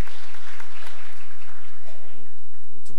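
A conference audience at a 2018 WWF climate action panel discussion applauds to welcome the panelists, producing loud, sustained clapping over a steady low hum from the hall's sound system.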